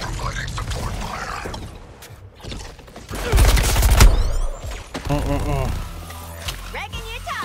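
Gunfire in the video game Suicide Squad: Kill the Justice League: loud rapid volleys of shots and mechanical clatter, heaviest in the middle, with in-game voices talking over the action.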